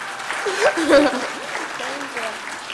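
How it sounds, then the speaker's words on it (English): Audience applause after a film screening discussion, steady clapping from a seated crowd with someone talking over it and a brief bit of laughter. "Give her a nice round of applause."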